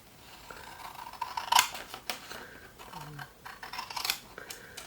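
Scissors snip through paper close up at a craft table, a few short crisp cuts spaced irregularly, with a brief louder snip near the start and light handling noise around them.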